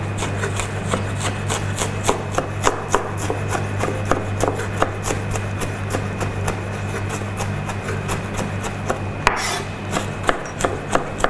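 A knife chops scallions finer on a cutting board for a salad, with a steady rhythm of sharp, close taps that repeat evenly for several seconds over a low background hum.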